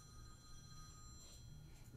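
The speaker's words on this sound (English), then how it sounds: "If that's my phone, I'm going to apologize now." A mobile phone rings faintly in a steady, continuous electronic tone during a town board meeting, distant and low, with no voices over it.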